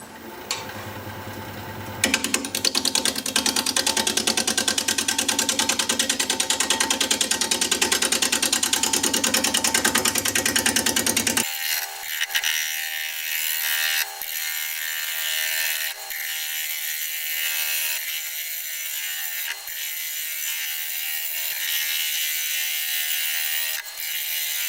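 A wood lathe runs at 600 RPM while a freshly sharpened 5/8 inch bowl gouge cuts the spinning blank, giving a loud, steady scraping whir that suddenly drops into quieter, lighter cutting with intermittent ticks.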